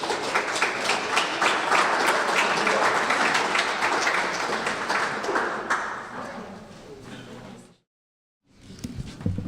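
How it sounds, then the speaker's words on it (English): Audience applause at a business forum on local economic issues, a dense, steady clapping that fills most of the stretch before cutting off abruptly, then resuming briefly near the end. "So give them a big round of applause."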